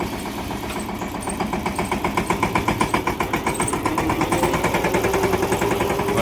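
A farm tractor's engine runs steadily, giving a loud, rhythmic chugging pulse that firms up and grows slightly stronger, with no voices over it.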